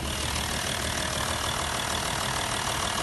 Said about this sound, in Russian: Вот слышите сами, как работает дизельный двигатель.